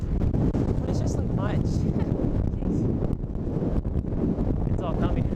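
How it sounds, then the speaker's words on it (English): Strong wind buffets the microphone in a constant roar, with a person talking over it. "it is windy, look at that."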